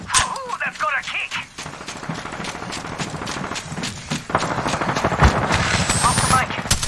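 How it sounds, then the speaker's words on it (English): Gunfire in the video game Apex Legends, rapid automatic bursts and single shots crackling close by in a busy firefight that grows denser toward the end, with a player talking over it. "Taking fire!"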